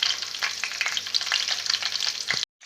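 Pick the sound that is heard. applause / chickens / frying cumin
frying cumin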